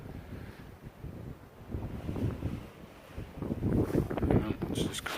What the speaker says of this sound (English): Man, that wind is relentless.